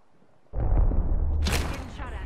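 Gunfire in the Apex Legends battle royale game, a loud burst that starts abruptly and continues as sustained shooting with a sharp, brighter crack partway through, close and dominant.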